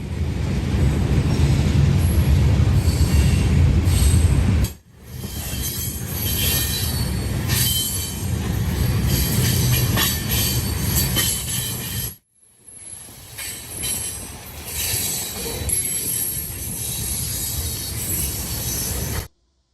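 CSX freight train B669, led by CN locomotives, rolls past heading south on the Columbus Subdivision, a loud, close, continuous rumble of railcars with high squealing wheels, broken by brief gaps.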